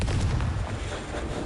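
Confringo spell blast in Hogwarts Legacy on PS5, a loud booming burst with heavy low rumble that fades over a second and a half, standing alone without talk.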